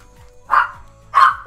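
Dog barking twice, two short loud barks about half a second apart, close and clear with no talking over them.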